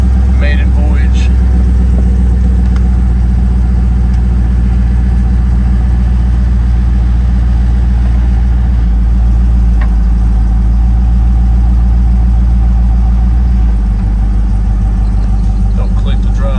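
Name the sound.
1964 Impala engine running while driving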